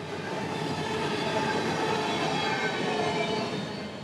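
CSX freight train rolling steadily past with locomotive 1852, painted in Western Maryland colors, trailing; a loud, continuous rumble and rattle of railcars with faint wheel squeal, steady throughout and close by.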